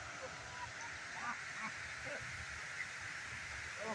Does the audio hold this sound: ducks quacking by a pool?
yes